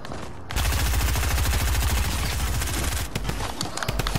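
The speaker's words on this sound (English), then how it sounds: "He has your drum gun!" A drum gun in a video game fires a long rapid automatic burst, loud and close, then gives way to a few scattered shots.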